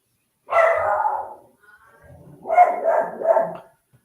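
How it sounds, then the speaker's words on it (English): A pet dog barks indoors, one sustained bark followed by a pause, then a quick run of two or three barks, fairly close and clear with no talk. "And that's my dog."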